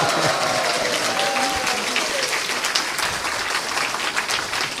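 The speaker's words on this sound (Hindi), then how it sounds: "आप सब तालियां बजा के इनका धन्यवाद करो।" A seated audience at a spiritual gathering claps continuously for the full length, a dense, steady wash of applause that stays loud throughout with no gaps.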